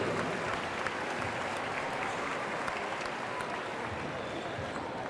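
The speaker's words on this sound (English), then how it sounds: "Round of applause for Kim Dancy from Euless Trinity." A sustained wash of audience applause fills the gym at a high school slam dunk and three-point competition, steady and dense with scattered cheers and voices mixed in.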